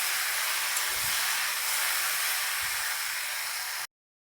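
Potatoes for aloo posto fry in hot oil with a steady, even, close hiss of sizzling that holds for a few seconds and then cuts off abruptly.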